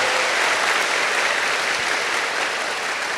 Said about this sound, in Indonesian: Kita berikan aplaus yang meriah untuk Universitas Terbuka